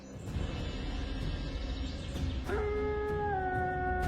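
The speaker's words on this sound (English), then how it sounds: "These howls can be heard up to 10 miles away, warning other packs of their presence" Several overlapping wolf howls, long sustained tones rising and holding at different pitches, sounding distant and carrying over a low ambient rumble.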